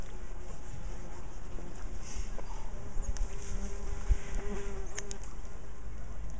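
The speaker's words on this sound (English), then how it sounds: "Bees everywhere." Bees swarm around a European brown bear, their buzzing close and continuous, with individual insects droning past the microphone at changing pitches, and no talking.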